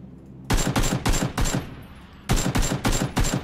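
Close, loud bursts of automatic gunfire in the video game PUBG, several rapid volleys split by a short pause before another sustained burst.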